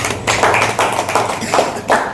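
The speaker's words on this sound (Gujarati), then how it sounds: "બેન માટે જોરદાર તાળી થઈ છે." Scattered group clapping at a small business meeting, coming in several distinct bursts of claps with brief gaps between them, fairly close and loud.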